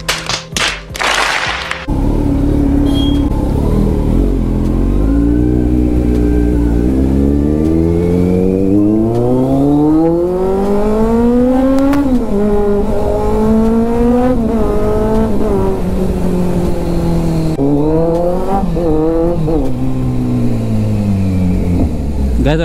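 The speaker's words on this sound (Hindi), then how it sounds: "इसे कंपनी फिटेड एग्जॉस्ट ही तगड़ा होता है।" Loud company-fitted exhaust on a vehicle during a ride, a close, continuous engine roar that rises and falls in pitch as it revs through the gears.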